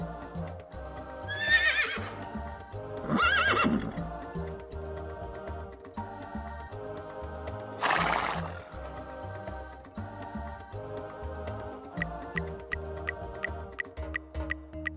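A horse whinnies in several short, loud neighs early on and again midway, set against a steady musical background.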